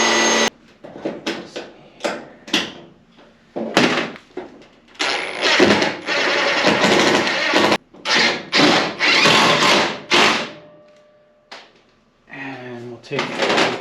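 A power drill runs in repeated bursts driving Clecos and self-tapping screws into the sheet-metal cowl of a 1953 GMC truck, loud and close with short pauses between the whirring runs, and a voice speaking near the end.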